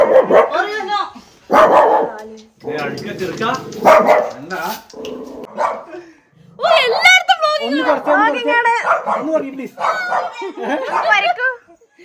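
A dog barks several times in short bursts, mixed in among people talking close by.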